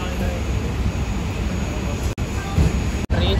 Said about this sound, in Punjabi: ਕਹਿੰਦਾ ਟ੍ਰੇਨ ਪੁੱਠੀ ਜਾਂਦੀ ਆ ਪੁੱਠੀ ਚੱਲਦੀ ਆ